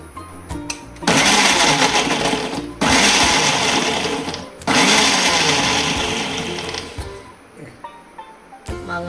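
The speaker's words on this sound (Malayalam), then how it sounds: "മാങ്ങ ഈ മിക്സിയിലിട്ടിട്ട് ഒന്ന് ആക്കുക" A kitchen mixer grinder pulverizes raw mango in three loud, close whirring bursts separated by short pauses, the motor winding down and clattering briefly at the end.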